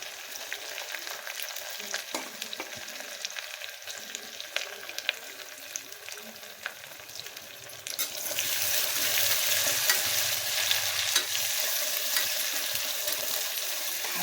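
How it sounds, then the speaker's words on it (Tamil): Chopped onions sautéing in a pan for vegetable biryani: a soft sizzle with light stirring scrapes at first, then a fuller, louder hiss of frying that holds steady to the end, with no talking. "கட் பண்ணி வச்சுருக்கிற வெங்காயத்தை போட்டு வதக்குங்க"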